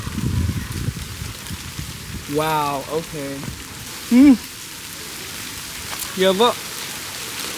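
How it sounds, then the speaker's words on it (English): Steady hiss of rain falling, with people's voices exclaiming over it and a brief high vocal call partway through. "It's raining."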